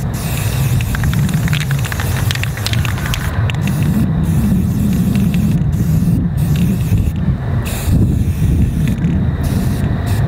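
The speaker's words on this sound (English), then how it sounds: "Boy, it's windy today." Outdoors during spray painting with Valspar spray paint, wind blows straight into the microphone. It makes a loud, constant low rumble and buffeting that covers everything for the whole stretch.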